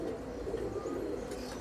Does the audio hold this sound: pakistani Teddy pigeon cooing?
yes